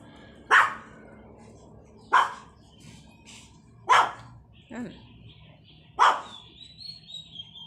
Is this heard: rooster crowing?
no